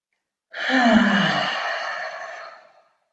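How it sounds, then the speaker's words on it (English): A single long, breathy voiced "ha" exhale during a mindful movement exercise as the hands are lowered, starting abruptly and fading gradually over about two seconds, close and clear with no other sounds. "we're going to make the sound of ha, which is the heart sound"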